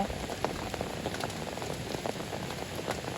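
Steady rain falling outdoors, a dense, even patter of drops on surfaces that continues without a break, close and moderately loud with no voices.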